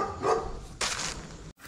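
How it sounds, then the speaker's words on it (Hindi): A dog barks indoors at a property site, with a couple of sharp barks close by and no talk over them. "भाई साहब अंदर कुत्ता भौंक रहा है"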